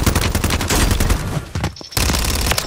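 Rapid automatic gunfire in Warzone 3, a loud close burst of shots with a short gap near the end before firing resumes.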